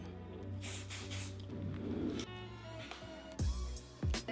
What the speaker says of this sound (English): I'm gonna grab that hairspray one more time.